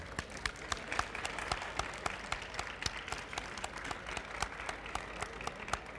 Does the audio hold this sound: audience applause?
yes